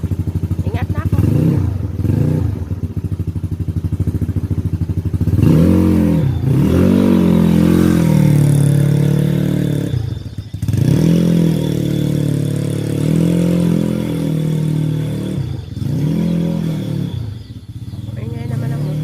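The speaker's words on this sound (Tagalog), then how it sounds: "Ingay naman ang motor." Motorcycle engine repeatedly revving up and dropping back in several close, loud surges with brief pauses between them, under occasional family voices.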